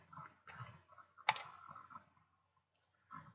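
A computer mouse click lands once, sharp and close, among soft scattered taps and faint quiet rustling.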